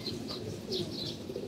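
Pigeons cooing softly nearby, a few low throaty coos over a brief stretch, faint and alone without talk.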